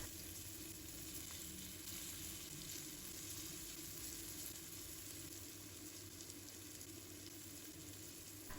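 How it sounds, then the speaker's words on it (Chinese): Hairtail fish pieces frying in oil in a pan over medium-low heat, giving a steady, dense sizzle that runs unbroken and close throughout, with no voices. "把带鱼煎至2面金黄焦香，这样吃起来才过瘾哦"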